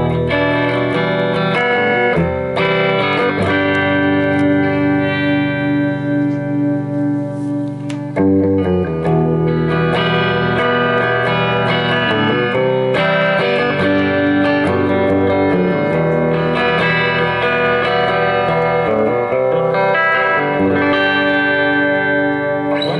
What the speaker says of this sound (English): slowly turn up the reverb and let you hear what that vintage reverb sounds like